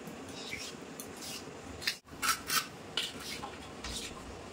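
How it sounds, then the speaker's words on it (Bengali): Whole coriander seeds and dried red chillies ground by hand on a grinding stone, a repeated rough rasping scrape in uneven strokes, close and moderately loud, with a brief pause midway and no talking. "এবার বেটে নেব হচ্ছে গোটা ধনে আর শুকনো লঙ্কা।"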